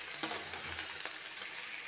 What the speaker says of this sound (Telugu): తర్వాత చికెన్ వేస్తున్నా బాగా కడిగి